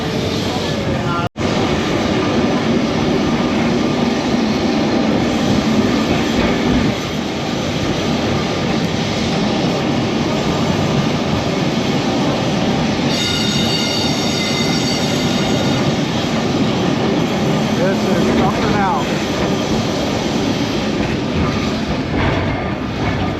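A trolley tram rolls through tight, narrow streets in Portugal, its steady loud rumble of wheels and car filling the whole stretch, with a brief sharp clatter near the start and a high squeal joining midway.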